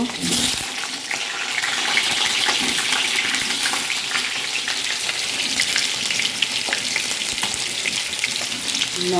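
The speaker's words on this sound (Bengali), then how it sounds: "আলুগুলি ভাজা হলে মশলা ভেজে নেব।" Potatoes fry in plenty of oil in a close, loud sizzle that holds steady throughout, with occasional spits and crackles.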